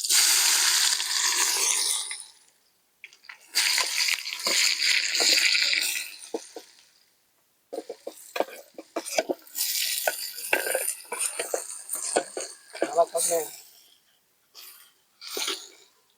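Hissing sizzle of onions frying in hot oil comes in bursts with pauses, mixed with scraping and stirring in a pan, close by and without speech.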